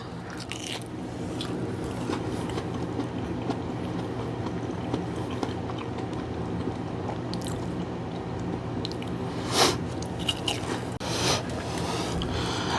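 Close chewing of a homemade coxinha with a wet, doughy filling, a continuous stretch of soft mouth sounds and occasional crunchy bites, including one louder bite near the end, over a steady low background.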